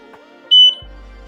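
A laser engraver gives a single sharp high-pitched beep as it starts an engraving job on medals, followed by a low machine hum.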